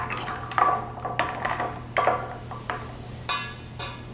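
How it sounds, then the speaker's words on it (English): A spoon stirs a Dirty Shirley made with Sprite in a glass, giving a string of faint, irregular clinks and taps against the glass, each followed by quiet fizz, with no voices. "Next, we're just gonna give us a good stir."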